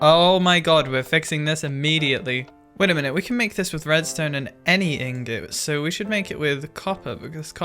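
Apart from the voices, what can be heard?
No distinct noise like a dog, phone or traffic.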